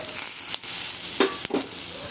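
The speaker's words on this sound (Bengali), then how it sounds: "পেঁয়াজটা এখন যেইটুকু ভাজা হয়েছে এর ওপর আমি দিয়ে দেবো এই টমেটো কুচিটা" Onions frying in oil for ghugni sizzle steadily up close, with a few louder bursts and stirring scrapes as chopped tomato goes into the pan; no voices.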